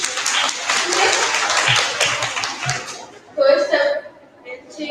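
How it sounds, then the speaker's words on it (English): An audience claps at a design thinking workshop, a burst of applause that fades after a few seconds before a voice speaks. "So, a clap for her, please."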